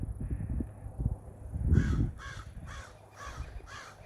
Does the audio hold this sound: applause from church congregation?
no